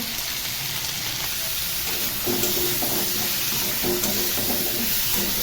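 Rohu fish with turmeric and salt fries lightly in a pan, a steady close sizzle and hiss with occasional faint stirring touches partway through.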